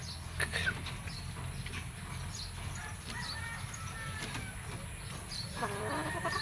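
Farm chickens, gamefowl being treated for feather picking, cluck and call over a steady low hum of outdoor background noise, with scattered bird sounds throughout.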